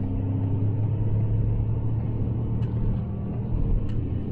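A Ford Puma ST Line's turbo engine roars in a steady low rumble from inside the cabin while accelerating through the gears, with a couple of faint clicks over the constant drone.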